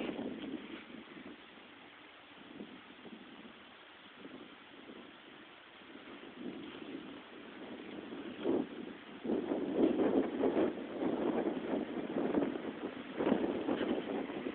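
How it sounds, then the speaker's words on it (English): A wind machine runs among trees, a faint, steady engine drone under gusting wind and rustling leaves that grow louder and busier in the second half. "you can see the trees make more noise than the wind machine does"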